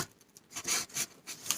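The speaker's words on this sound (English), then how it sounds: "I'm just cutting open the tape on this one" Packing tape on a cardboard box is being cut open, giving quiet, close scraping and rasping strokes in short uneven bursts, with no speech.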